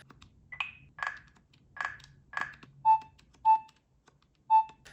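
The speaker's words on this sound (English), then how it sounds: "Keytones. You can pick up from 4 different ones." Short electronic keytones from a cheap $9 handheld game console, a series of distinct beeps: several warbling tones followed by three clean identical pitched blips, evenly spaced, close and clear with no talking.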